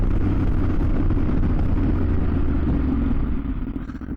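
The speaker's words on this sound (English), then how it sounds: "We'll put a little bit more pressure on the brakes." A Yamaha Tenere 700 adventure motorcycle riding on the road and slowing under harder braking, its steady engine and road rumble close and continuous, easing and dropping in level near the end as the bike slows.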